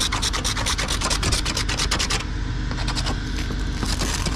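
Paint being sanded off a metal roof makes a loud, continuous rasping scrape with rapid back-and-forth strokes, rhythm briefly easing partway through.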